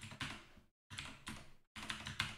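Quiet, close clicking of keys as a query is typed on a computer keyboard, in three quick bursts separated by short pauses.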